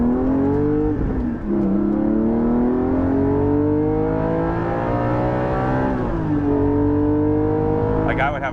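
Porsche 718 GT4 exhaust heard from inside the cabin while driving, a loud steady engine drone with rising and falling pitch as revs climb, dip and climb again through gear changes.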